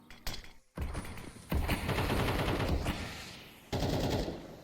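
Rapid gunfire bursts from a Counter-Strike match between Vitality and Virtus.pro in a BLAST Premier event: dense, loud automatic fire in several bursts separated by short gaps, with no voices.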